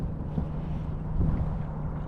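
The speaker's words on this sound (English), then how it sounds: "It's real windy." Steady low rumbling wind buffeting the microphone on an Xpress XP200 boat on rough open water, with a faint engine hum underneath, continuous and fairly loud.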